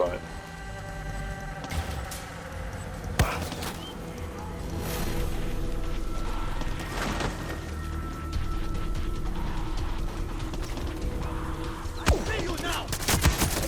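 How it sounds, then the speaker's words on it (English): Rapid bursts of video-game gunfire and clanking mechanical sounds run throughout, with a few sharp, louder shots standing out, while a person talks over the action. "they will hear the gun going off"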